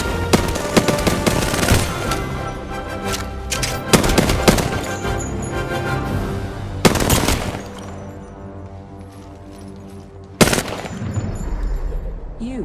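Automatic weapons rattle in long rapid bursts during an Apex Legends video game firefight, loud and close, with sharp single cracks and heavy impacts punctuating a brief lull.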